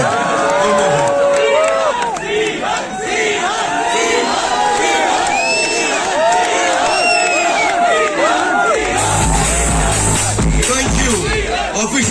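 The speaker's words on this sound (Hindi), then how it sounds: "एक बार जबरदस्त ताली" A crowd at a luxury car handover event cheers and whoops loudly, with overlapping shouts and babble filling the space. The noise stays continuous before a low rumble joins near the end.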